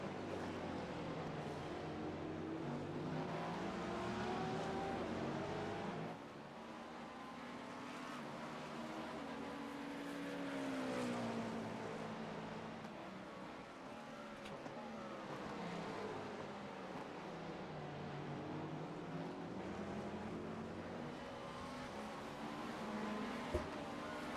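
GTP prototype race cars in a sim racing game roaring past one after another, engine notes rising and falling as each sweeps by, a continuous loud motor drone.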